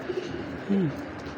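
A Janssen racing pigeon gives a single short, close coo, a soft rising-and-falling call over faint background noise.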